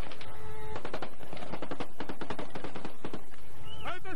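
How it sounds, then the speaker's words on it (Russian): Blank rounds are fired in rapid bursts, a dense train of sharp cracks like automatic fire, loud and close, with a brief voice-like sound near the end. "Это холостые выстрелы."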